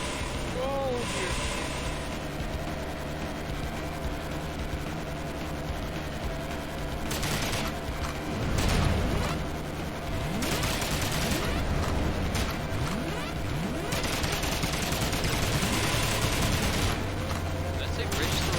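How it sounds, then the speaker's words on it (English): Gunfire from gunners riding in a van in the Horace video game, dense crackling shots and bursts layered over steady game music and engine drone, with louder volleys midway. "the other one signaled Mr. Logan Oh, and Preston to fire their guns"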